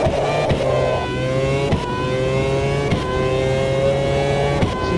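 Formula 1 car in a racing simulator game howls at high revs, the engine note climbing steadily through quick gear changes, loud and continuous with no talk over it.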